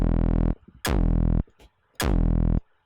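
A hardcore kick drum synthesized in Serum and sent through a filter: three long, buzzing, sustained tones with harsh overtones, separated by brief gaps, loud and close with no talk.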